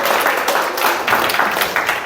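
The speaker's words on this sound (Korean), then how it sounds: "다시 한번 박수 한번 주시고" A lecture audience in a hall gives a loud, full round of applause, with dense clapping that continues steadily with small swells and no talk over it.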